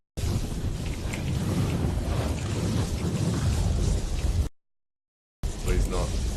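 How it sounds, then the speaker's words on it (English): Lightning in the video game The Ball crackles as a loud, dense rumbling burst. It rolls close for about four seconds, cuts to silence, then resumes briefly. "And the lightning can damage me"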